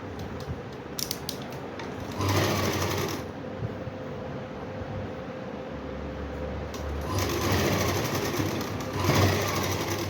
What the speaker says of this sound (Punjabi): ਜਿਹੜੀ ਆਪਾਂ ਸਲਾਈ ਆਪਾਂ ਬਿਲਕੁਲ ਨੀਚੋਂ ਲੈ ਕੇ ਆਉਣੀ ਉੱਪਰੋਂ ਨਹੀਂ ਕਰਨੀ